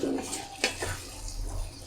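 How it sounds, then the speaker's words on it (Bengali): Boiled chana dal is stirred into vegetables in a pan, giving a brief, continuous wet scraping and sloshing. "এখন এই ডালটাকে ভালোভাবে সবজির সাথে মিশিয়ে দিচ্ছি।"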